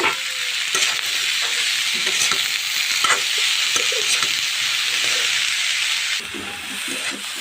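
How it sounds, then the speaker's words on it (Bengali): Cauliflower and potatoes sizzling steadily in a hot pan, with occasional stirring scrapes and clinks over a constant frying hiss. "এখন আমি দিয়ে দেবো এখানে ফুলকপির আলুগুলো একসঙ্গে দিয়ে দেবো"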